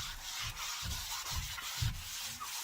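Fine 300-grit sandpaper rubs across a painted furniture surface in steady one-direction strokes, each pass a soft, close scratchy swish repeating about every half second with no voices.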